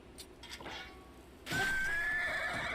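A horse in Zelda: Breath of the Wild lets out a long, loud whinny after some quieter hoof clatter and game sounds, the neigh ringing on to the end.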